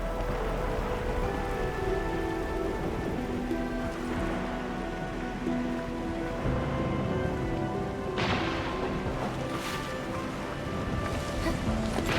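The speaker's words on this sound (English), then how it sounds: "It's raining harder. I can't hear anything except for the rain." Steady, heavy rain pours throughout in the video game Arknights Endfield, a dense continuous hiss with a few sharper bursts near the end, mixed with faint tonal game sounds and no talking.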